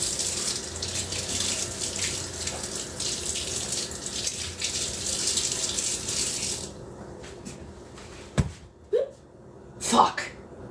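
Kitchen sink tap running steadily while vegetables are washed during dinner prep, a close, loud gush that stops partway, followed by a few clatters and handling sounds.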